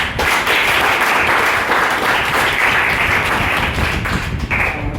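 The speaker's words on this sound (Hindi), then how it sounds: "तो उनकी इस सफलता के लिए पहले एक जोरदार तालियां" Loud, sustained audience applause at a motivational talk, many hands clapping in a dense continuous wash for five seconds without letting up, close and full.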